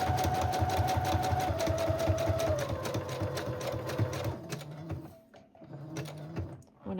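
A sewing machine stitches a handmade junk journal at a slow, steady pace, its even mechanical whir running for about four seconds before slowing into quieter, broken stitching.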